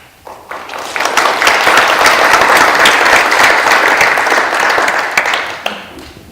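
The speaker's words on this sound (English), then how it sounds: "thank you all for applauding in advance" A conference audience applauds a panel speaker, loud, dense clapping swelling quickly, holding steady for several seconds, then fading near the end.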